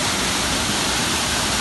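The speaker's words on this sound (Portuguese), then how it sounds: "Tem a cachoeira que é muito bonita." Steady rushing roar of the Córrego Formoso waterfall at Cachoeira da Jandaia, in basalt terrain; a continuous, dense wash of falling water, loud and unbroken, with no voices.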